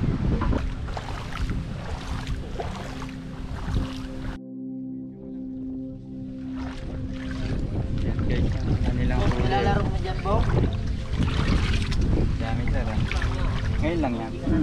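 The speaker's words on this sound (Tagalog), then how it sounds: "Di pa rin medyo mahangin-hangin pa rin." Steady wind roars and buffets over the open water of Laguna de Bay after a typhoon, with a brief lull in the middle before the gusting noise returns.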